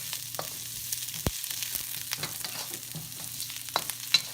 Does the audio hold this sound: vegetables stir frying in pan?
yes